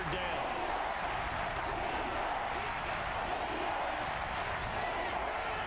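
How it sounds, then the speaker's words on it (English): Crowd cheering in a Madden NFL video game ahead of a big third down, a dense, constant stadium roar that holds at an even level from start to finish. "The crowd getting into it as we come up on a big third down."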